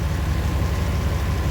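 A 1996 Briggs & Stratton 17 hp I/C opposed-twin engine idles on its own with a steady, low, even throb, loud and close, with no voices.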